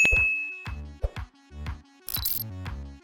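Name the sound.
notification bell ding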